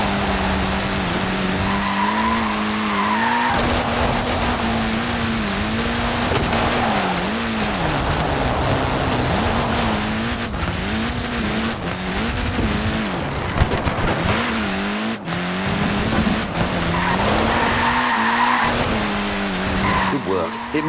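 A Mini in the video game Forza Horizon 4 skids on its small tyres, a continuous wavering squeal over a steady engine drone that stays loud and close throughout.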